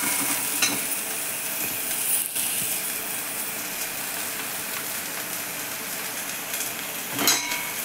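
Ground masala paste with a little fresh coconut sautéing in oil, giving a continuous even sizzle with a few scraping stirs, one louder near the end.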